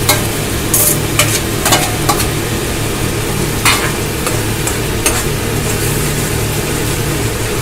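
Ginger garlic paste is stirred and fried in a pan with tomato and onion, producing a loud, constant sizzle, occasional scraping strokes of a spoon and a low steady hum underneath.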